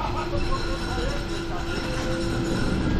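A Konstal 105Na tram starting to move rumbles steadily with a continuous low mechanical drone and faint rail noise, close by, without any clear voices.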